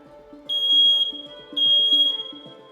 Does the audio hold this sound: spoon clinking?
no